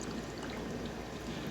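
A steady stream of water pours into a pot of uncooked rice, a continuous close splashing trickle with no talk.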